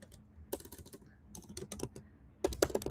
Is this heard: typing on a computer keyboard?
yes